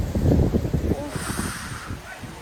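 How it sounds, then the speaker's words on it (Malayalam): Strong outdoor wind buffets the microphone in low, rough gusts that are loudest at the start and then ease into a steady rushing roar. "അയ്യോ, എന്തൊരു കാറ്റിട്ടാ."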